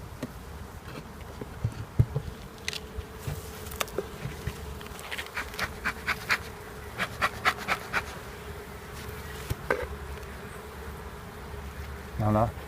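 Honeybees at an opened hive coated in propolis buzz in a soft, continuous drone, with individual bees zipping past close by and faint talk in the background.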